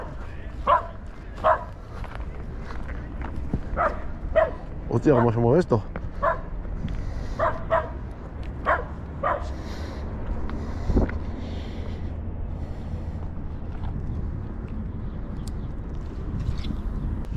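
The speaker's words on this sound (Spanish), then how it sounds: "qué perro más pesado" A dog barks repeatedly in sharp, irregular yips near a riverbank in a city while fishing, mixed with wind noise and someone speaking Spanish, the barking thinning out later.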